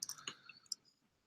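Computer keyboard keys click in a quick burst of a few sharp taps, close and moderately loud, then fade to quiet.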